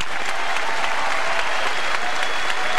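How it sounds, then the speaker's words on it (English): A crowd at the 1996 PBA National Championship bowling event gives loud, steady applause, a dense, even wash of many hands clapping throughout, with no talk over it. "another round of applause."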